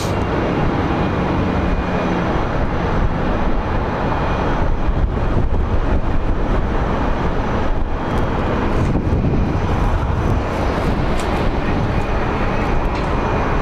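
A regional Embraer jet, Envoy flight to San Luis Obispo, performs a go-around at Phoenix Sky Harbor, producing a steady, broad roar of engine noise and wind that holds for the whole stretch without a break.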